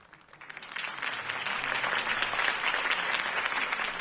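Crowd applause rises quickly after a campaign speech by Harvey Dent in the Batman Telltale video game, a steady dense clapping that swells within the first second and holds loud and even to the end.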